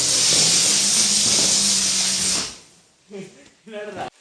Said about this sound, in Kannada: ಇದು ನಾನು ಸುಸುರು ಬತ್ತಿ ಹಚ್ಚುತ್ತಿರೋದು.